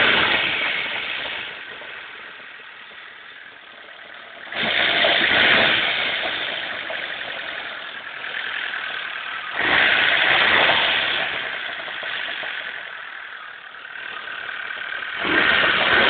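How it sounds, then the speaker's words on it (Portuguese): A Chevrolet car engine idles steadily after a tuning job, with a smooth, even hum broken by three brief revs that swell and fall back, close by and with no talk. "O motor tá liso, né?"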